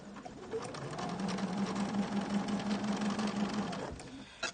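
A sewing machine stitches quilt fabric in needle-down mode, with a steady, quiet mechanical whirr and rapid needle chatter running for a few seconds before stopping; close and faint.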